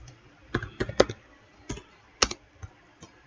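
Scattered keystrokes on a computer keyboard as code is typed, close and quiet, a few irregular taps and clicks spaced apart with no speech.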